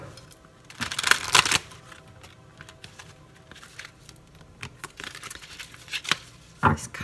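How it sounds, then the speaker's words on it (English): Oversized tarot cards being shuffled by hand, with soft riffling and slapping bursts near the start and a few shorter card flicks later, close and quiet with no talk. "Okay, one more shuffle"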